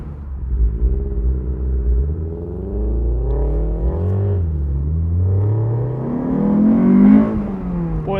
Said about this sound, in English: that BRZ sounds good